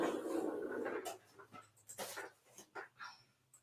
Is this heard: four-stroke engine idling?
no